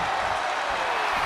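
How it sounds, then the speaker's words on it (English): A wrestling video game crowd roars in a dense, steady wall of cheering, loud and unbroken throughout the short moment. "The sound of this crowd is deafening, and he's asking for more"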